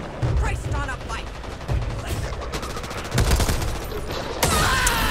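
Rapid bursts of gunfire and automatic weapon fire in the video game Back 4 Blood, dense and overlapping, with players talking faintly underneath.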